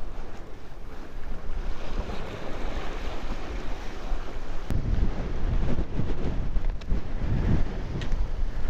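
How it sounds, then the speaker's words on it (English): Strong onshore wind sweeps sand across an ocean beach at Montauk during September inlet striper fishing, a steady roaring rush with surf underneath that swells louder midway and gusts against the microphone. "Wind's blowing the sand right across the beach and against my legs."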